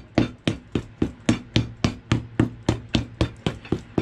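A hammer taps a sole onto a Rocky work boot during resoling with a Vibram 1275 Olympia sole, about sixteen sharp, evenly spaced blows in a steady rhythm, close and loud with no talk.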